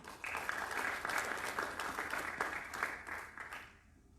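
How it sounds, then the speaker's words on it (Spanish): A small crowd at a political debate forum applauds steadily for a few seconds, a dense patter of clapping that fades out at the end. "Adelante, doctor Yuri, los aplausos correspondientes, por favor"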